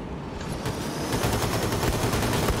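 Sustained, dense gunfire from several weapons in a firefight in Wolfenstein II: The New Colossus, rapid overlapping shots that stay loud and continuous throughout with no talking.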